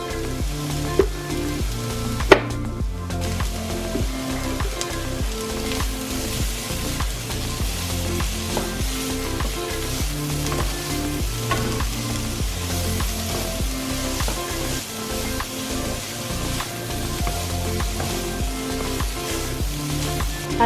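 Vegetable fried rice sizzling steadily in coconut oil in a hot pan, a dense continuous crackle with occasional scraping stirs, close and alone without voices.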